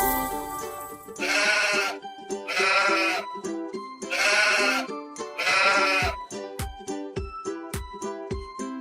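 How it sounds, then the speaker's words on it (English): Four loud, wavering sheep bleats sound near and alone over a light musical backing, followed by plucked notes. "Sheep."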